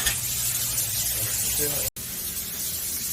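A spray foam insulation gun hisses steadily while applying soft foam between the studs and complex trusses of a steel-frame house, a continuous loud spray that cuts out briefly near the middle.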